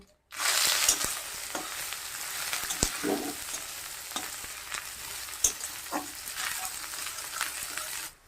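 Sliced onions with dried red chili and nigella seeds fry in mustard oil, a continuous close sizzle broken by scattered ticks and taps from stirring.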